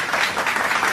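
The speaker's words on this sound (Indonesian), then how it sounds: "Tepuk tangan untuk kita semua." A fifth-grade math class breaks into a brief burst of clapping, a short, fairly close patter of many hands.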